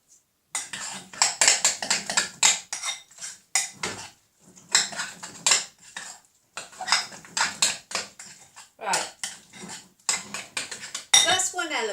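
A spoon stirs and scrapes through a lasagne mixture in a pan, giving repeated close metallic clinks and scrapes in uneven bursts with brief gaps between them.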